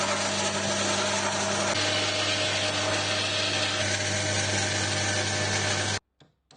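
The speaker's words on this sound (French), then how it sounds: "On va scier ça à cette coupe." A power saw cuts steadily through wood for building a small boat, a loud continuous whining buzz held for about six seconds before stopping abruptly, followed by a couple of faint knocks.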